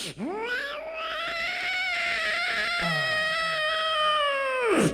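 A comedy stage performer's voice imitates a cat's changed, harsher tone when another cat arrives: one long, loud, wavering caterwaul rising sharply and held for several seconds before dropping away.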